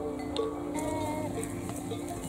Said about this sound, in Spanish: Aquí están las ovejas recién esquiladas.